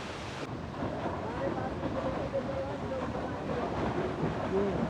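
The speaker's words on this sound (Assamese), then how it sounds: "ছাইডত নদী বৈ গৈ আছে" Rushing water from a river flowing beside a campsite at Mana village near Vasudhara, a constant broad wash mixed with wind buffeting the microphone and faint voices in the background.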